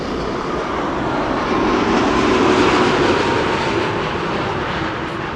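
A United Airlines flight from Chicago arrives at Amsterdam Schiphol, jet engines rumbling in a steady broad roar that swells slightly midway then eases, heard alone at moderate distance.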